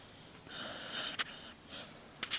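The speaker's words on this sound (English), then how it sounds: "you don't know how to sniff a camera?" A dog sniffs up close at a camera, quick snuffling breaths in two short bouts with sharp nasal snorts, loud and near, with no one talking.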